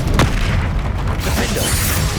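Spell explosions from the Hogwarts Legacy video game burst as a loud, dense booming blast with a sharp crack early on, followed by sustained rumbling impact noise throughout.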